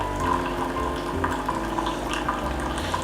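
Water streaming steadily from a Keurig coffee maker into a cup below, a continuous close pour with a low machine hum underneath and no voices.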